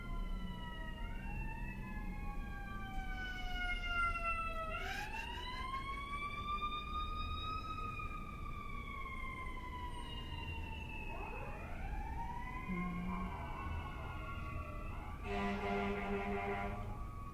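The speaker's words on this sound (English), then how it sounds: "blessings to the siren." Several emergency vehicle sirens pass by in the distance, overlapping wailing tones rising and falling steadily over traffic rumble, with a new siren burst near the end.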